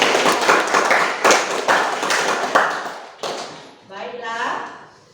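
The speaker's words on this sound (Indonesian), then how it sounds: "Tepuk tangan untuk teman-teman" Students in an Indonesian classroom clap for their classmates, a dense burst of hand claps for about three seconds that then fades under a teacher's voice speaking.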